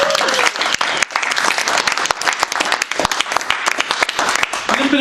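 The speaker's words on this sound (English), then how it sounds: "Let's give her a round of applause." An indoor audience at an evening meeting breaks into applause, a dense burst of many hands clapping that carries on for several seconds and stays loud throughout.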